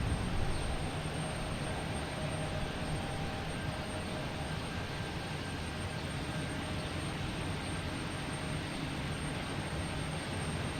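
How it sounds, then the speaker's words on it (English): A JetBlue Embraer E190 lands at Boston Logan, heard as a steady, distant jet roar and broadband rush that holds fairly even throughout. "We have JetBlue and E190 coming in from Pittsburgh, flight 1386"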